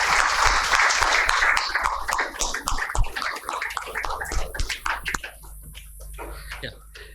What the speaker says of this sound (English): we can give them a warm applause